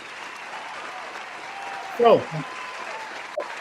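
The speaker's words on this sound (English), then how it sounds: "Let me give that a round of applause again for both of y'all." An audience at a public talk applauds in a soft, steady patter, with a brief spoken word and a few louder voice sounds cutting in partway through.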